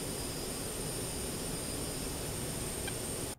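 Search-scanning tone from the DCS A-10C radar warning receiver in a flight-simulation game, heard as a faint intermittent chirp buried in a steady broadband jet-engine roar that cuts off abruptly at the end.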